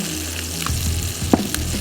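Fish fries in a pan with a steady crackling sizzle, punctuated by a few sharper pops and a brief clatter, all close and fairly loud with no talking.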